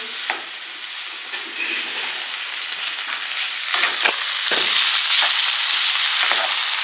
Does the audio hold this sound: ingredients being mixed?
yes